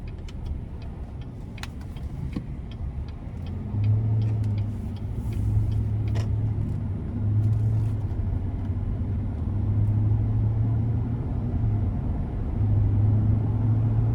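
A 2019 Chevrolet Silverado 1500 RST Double Cab pickup cruising a test drive loop, with a steady low engine drone and road rumble heard from inside the cab, plus scattered light clicks and ticks.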